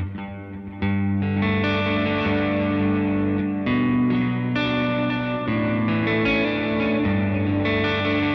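An electric guitar through an HX Stomp Dual Matchless preset with a small hall reverb and dotted-eighth delay plays full, ringing chords, loud and close, with echoing repeats trailing each strum.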